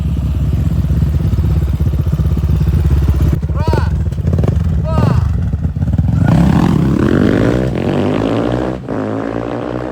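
Loud, close Chinese enduro motorcycle engines, including a 2025 Geon GNX, rev and race, their pitch sweeping up and down as they accelerate, with a steady roar throughout.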